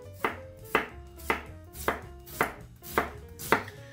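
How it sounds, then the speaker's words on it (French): A knife slices red cabbage finely on a cutting board in seven crisp, evenly spaced chops, each a sharp close thud with a short tail, with no talking. "on va l'émincer plutôt finement"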